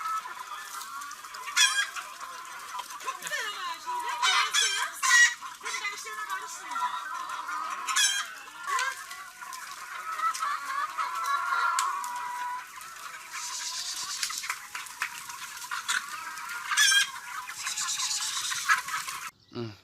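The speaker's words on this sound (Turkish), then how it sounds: "Bak şunların şey özel bir tavukmuş." Chickens cluck and squawk repeatedly at moderate volume, with occasional louder calls and a rooster-like crow, over steady background noise.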